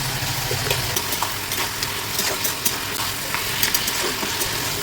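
Food frying in a pan with turmeric and salt for a Malabar spinach and fish curry: a steady, close crackling sizzle with occasional stirring scrapes and no talk.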